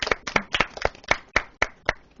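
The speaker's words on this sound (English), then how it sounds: "For Karan and Nilesh, big clap" A small group of schoolchildren claps in a classroom quiz session, about ten distinct, fairly close claps in a quick, slightly uneven rhythm.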